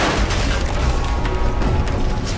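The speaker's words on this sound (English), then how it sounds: "These massive explosions have brought new gameplay with them." A massive explosion rumbles through Verdansk in Call of Duty Warzone, a sustained loud booming roar with deep low-end weight and crackling debris layered on top, filling the whole stretch with no talking.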